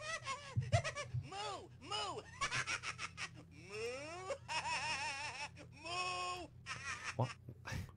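A human voice imitates a sick cow with wavering, strained moans and bleats that rise and fall in short bursts over about eight seconds, close to the microphone in a studio.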